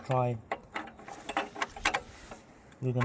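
A split 22mm socket is slid onto the lambda sensor of a Honda HR-V, giving a few faint metallic clicks and scrapes between short stretches of speech.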